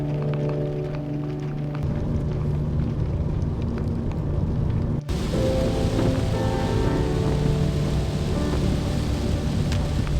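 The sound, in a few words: heavy rain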